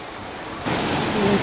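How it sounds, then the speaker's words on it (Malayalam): An artificial waterfall in China, fed by water that a large motor pumps up to the top, gives off a steady broadband rush that swells louder about halfway through. No one speaks. "ഈ വെള്ളച്ചാട്ടം ഒറിജിനൽ അല്ല, ഉണ്ടാക്കിയെടുത്തതാണ്."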